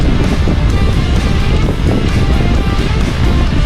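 Strong wind roars over the sea aboard a boat, a loud, continuous buffeting rush that overwhelms the microphone with low rumbling gusts and no clear pauses.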